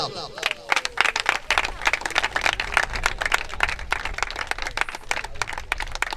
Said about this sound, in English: please let me hear you clap